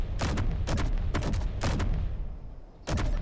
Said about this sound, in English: So we have our autocannon turret, or autocannon, which has a range of 800 meters.